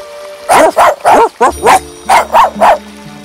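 A small dog barks in a rapid series of about eight sharp yips, close and loud, with no talk over them, as a sound effect in a French fairy tale.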